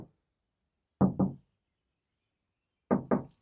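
Knocking on an insulated Mercedes Sprinter van door after sound-deadening with aluminium butyl mats: two pairs of quick, dull, damped knocks, close and fairly loud, separated by silence.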